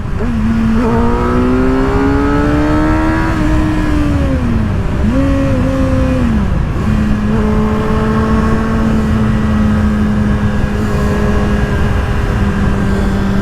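A 2024 Kawasaki ZX-6R 636 motorcycle accelerates with its exhaust sounding relatively quiet, the engine note rising steadily through gears with shifts, loud and close under heavy wind rush.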